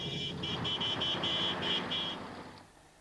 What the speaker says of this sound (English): The Tipperary bus heads for Thurles and a night of celebration.